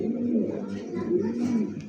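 Pigeons kept for sale coo softly and repeatedly, low throaty rolling calls close by, continuing steadily across the short stretch.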